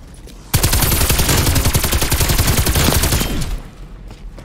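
A Zeus cannon firing in a first-person shooter, a loud, dense rapid burst of crackling shots that starts abruptly and rattles on for about three seconds before cutting off.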